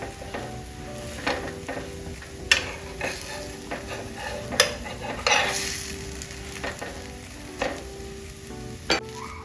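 A beetroot paratha roasts in a little oil on a pan over low gas, giving a soft continuous sizzle punctuated by scattered sharp clicks and scrapes of a spatula against the pan.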